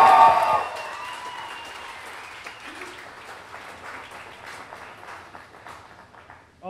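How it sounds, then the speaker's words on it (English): Wedding guests at a reception burst into applause after a toast, starting strong and then trailing off into scattered, fading claps over several seconds. "Big round of applause."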